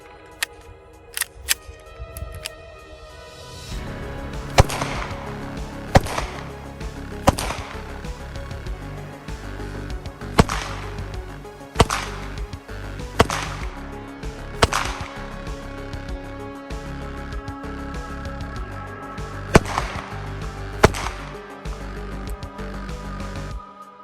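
Pistol shots from a custom SD9VE firing Blazer ammunition ring out in a string of roughly ten sharp, loud reports at irregular intervals over steady background noise, with no talking.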